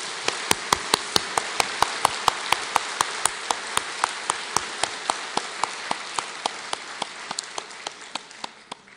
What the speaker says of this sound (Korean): 우리 꼬마 친구들 위해 축복의 박수를 한번 하겠습니다